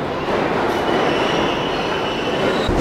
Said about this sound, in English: The train's here, so.